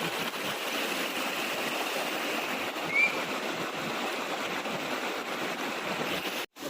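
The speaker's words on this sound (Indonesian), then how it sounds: "inilah suasana air terjun di Sungai Makarti ya" A waterfall on the Makarti River in Morowali rushes in a steady, unbroken hiss that fills the whole scene, close and constant.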